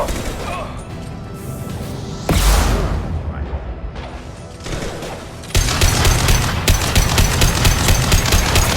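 Concussive weapon fire in a video game battle: heavy booming blasts and crashes followed by a loud, sustained stretch of rapid automatic fire.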